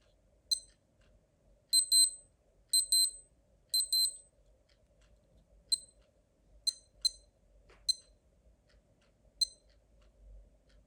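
Short bursts of high electronic beeping from a vintage Casio Databank digital watch alarm, mostly in quick double or quadruple pulses, then single beeps spaced irregularly over a quiet low hum.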